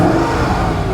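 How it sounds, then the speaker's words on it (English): The 5-litre V8 of a Mercedes ML500, sitting 730 days out of service, revs in a loud, close, brief burst with steady rough engine roar and no talking. "the engine is sweet. Listen to this."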